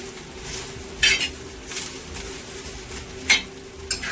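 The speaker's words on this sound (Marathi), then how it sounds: "आता हा कांदा मी भाजून घेते चांगला" Onion roasting in a pan for a Maharashtrian masvadi masala, with a low background sizzle broken by a few sharp clinks and scrapes of a utensil against the pan.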